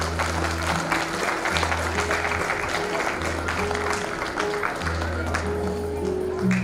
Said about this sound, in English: they really deserve a big round of applause from your side